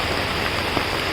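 Heavy rain pours steadily onto a flooded Mumbai street, a dense, even hiss close and constant with no voices over it.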